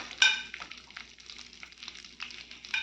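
Cumin seeds frying in a pan for a Telugu peanut-garlic chutney, a soft steady sizzle with light scraping and stirring clatter, close and fairly quiet, no voices.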